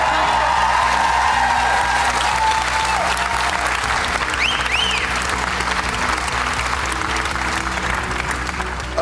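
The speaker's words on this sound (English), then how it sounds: "Everyone will give you a really big round of applause." An audience at a Britain's Got Talent grand final breaks into loud, sustained applause with scattered whoops and cheers, dense clapping filling the whole stretch.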